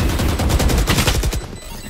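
Rapid, loud gunfire from the Judge automatic shotgun in the tactical shooter Valorant, a dense run of close booming blasts that stops abruptly near the end.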